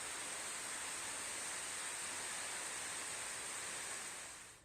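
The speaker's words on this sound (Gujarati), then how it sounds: "ધોધમાર વરસાદ વરસ્યો" A heavy downpour falls over villages in the Talaja area of Bhavnagar as a dense, unbroken roar of rain that holds at a constant level throughout and fades slightly at the very end.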